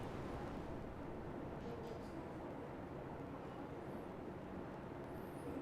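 A helicopter flies in the video game GTA Online, giving a loud, steady, dense rotor and engine roar that holds unchanged throughout with no talk over it.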